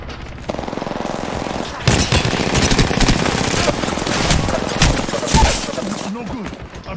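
Rapid gunfire in a video game, loud sustained bursts of automatic fire and shots with brief pauses, with a voice talking underneath.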